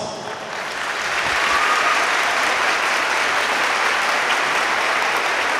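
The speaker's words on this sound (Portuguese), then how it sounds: "Uma calorosa salva de palmas" A large audience breaks into sustained applause for graduating fifth-year students of the PROERD program at a municipal school ceremony, the dense clapping swelling quickly and holding steady and loud throughout.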